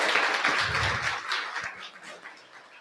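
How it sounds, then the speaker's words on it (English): An audience at a Sunday service at Unity of Mesa applauds a singer, a broad wash of many hands clapping that starts full and gradually thins and fades. "Can we give her another round of applause?"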